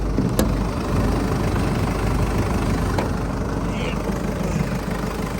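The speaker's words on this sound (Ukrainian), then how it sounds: "Ось так працює двигун, з під капотиком бачите" A 2020 Mercedes Sprinter 316 van engine idling close up under the open hood, a continuous low rumble with even hum and no voices.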